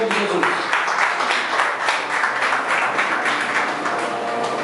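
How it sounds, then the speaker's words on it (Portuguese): A church congregation applauds loudly and continuously, many hands clapping at once, with voices mixed into the steady roar. "uma grande salva de palmas em nome de Jesus."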